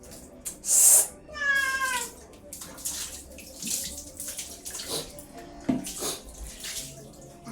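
Cat meowing loudly in protest while being bathed in a tub, several plaintive cries mixed with splashing water, and a person talking softly in between.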